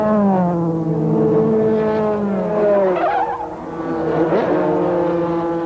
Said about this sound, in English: His car catapulted across the line backwards.